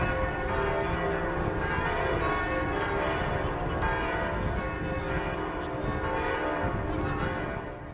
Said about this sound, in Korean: 오스트리아 빈의 휴테판 대성당에서 종이 울리자